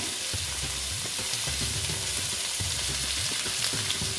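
Mixed vegetables for a meatless Bengali dish fry slowly in a pan with a constant, moderately loud sizzle, broken by regular soft scraping strokes of stirring.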